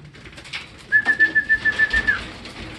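At a loft where racing pigeons are arriving, a pigeon gives a short run of about eight soft, rhythmic coos, close by. A thin whistle-like tone runs over the coos.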